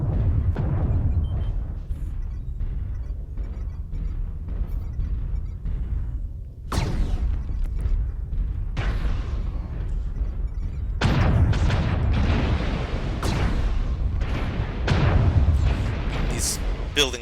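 Artillery strike explosions in a MechWarrior battle, a series of heavy booms and blasts landing in clusters, loud and close, with bursts of impacts crowding together in the second half amid battlefield noise.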